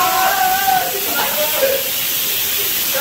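A new pressure cooker whistles as it releases steam, giving a steady loud hiss with a faint whistling tone throughout, while voices talk over it.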